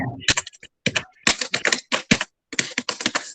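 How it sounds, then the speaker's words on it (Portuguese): Quick, irregular keystrokes on a computer keyboard tapping out bursts of clicks with brief pauses, close and fairly loud, sounding like trotting hooves, in a classroom-like room with no talk. "Quem está digitando aí que eu estou escutando uns trotados?"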